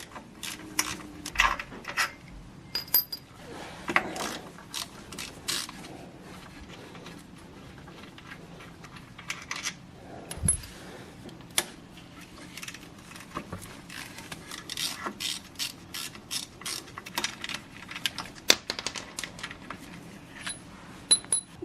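Bolts come off the pulley tensioner of a BMW E36 with an M52 engine: sparse metallic clicks, ratcheting ticks and small tool clinks scattered through a quiet garage, close and faint.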